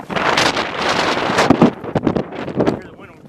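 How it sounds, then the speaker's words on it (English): Strong desert wind in Anza-Borrego Desert State Park buffets the microphone in loud, ragging gusts that rise and fall over a few seconds, roaring close and rough. "Hear the wind ripping in the background."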